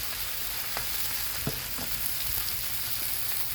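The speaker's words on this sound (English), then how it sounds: "I like to put a little bit of oil over them, just to help them fry." Potatoes fry in oil on a Blackstone griddle, giving a steady, close sizzle with a few faint clicks and scrapes and no talk.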